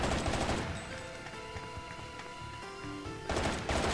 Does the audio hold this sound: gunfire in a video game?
yes